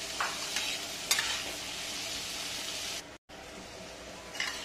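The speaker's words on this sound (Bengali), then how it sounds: "তো একটু নেড়ে দিচ্ছি, একটু লাল করে ভেজে নেব।" Carrots and beans fry in a pan for pasta, a steady sizzle broken by several scraping stirs, with a brief break in the middle and no talking.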